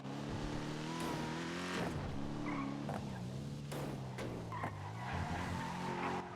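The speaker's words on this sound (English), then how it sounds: "Because if I get too close, this car's too loud." A loud car drives in the video game GTA, with its engine droning and tires squealing and skidding through turns, continuous and close, with no talk.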